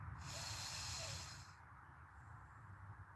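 A single deep diaphragm breath during an outdoor stretching and yoga exercise, drawn in as a soft airy rush that then fades away, quiet and close with no talk.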